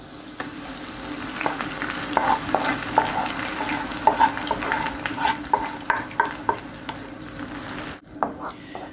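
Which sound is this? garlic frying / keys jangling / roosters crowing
garlic frying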